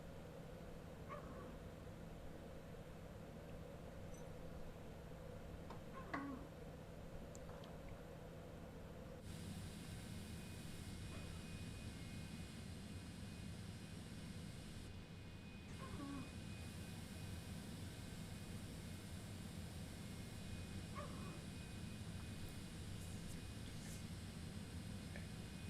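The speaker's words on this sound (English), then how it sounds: "I did not expect this plane to bark like an Airbus, but you can hear it in the background, the hydraulics." A hydraulic pump in the Flight FX Citation X in Microsoft Flight Simulator gives a bark-like pulsing that repeats roughly every few seconds. It sits over a steady cockpit hum that gets louder partway through.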